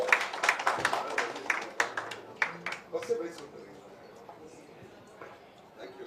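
An audience claps for the lyricist at a single album launch, with scattered hand claps near and moderately loud over a speaking voice, then thinning out and fading to quiet room noise by the end.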